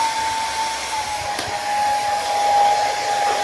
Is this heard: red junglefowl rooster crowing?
no